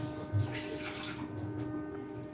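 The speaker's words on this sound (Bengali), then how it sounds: "আমি পরিমাণ মতো জল দিয়ে একটা পেস্টের মতো তৈরি করে নেব।" Water is poured into a ground spice mixture of green chilli and black pepper powder to make a paste, a soft, close trickle with a brief splash near the start, quiet and without speech.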